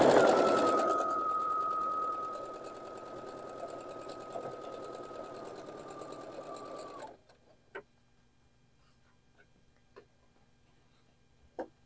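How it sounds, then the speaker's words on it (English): A sewing machine stitches a quarter-inch seam joining quilt block rows, a loud, steady whirring run for about seven seconds that then stops, followed by a few faint clicks. "then sew that down at a 1/4 inch seam"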